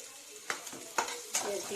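Garlic fries in hot oil until golden brown, giving a soft, continuous sizzle broken by a few clear scrapes or taps of stirring.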